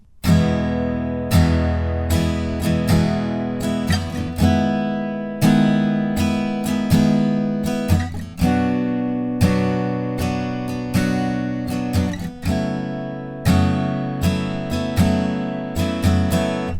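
An acoustic guitar strums the bridge chords of a song in a steady pattern, each chord ringing for one pattern before the next, close and clear with no talking.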